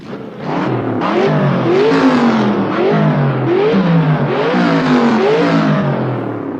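A modded car engine sound in Assetto Corsa revs hard through successive gears, each pull rising in pitch before dropping at the shift, loud and close with a whirring edge.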